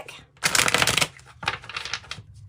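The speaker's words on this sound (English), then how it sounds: "I know this is a lot of shuffling" Kipper-style oracle deck cards being shuffled by hand, two loud bursts of riffling and shuffling close up, separated by a short pause.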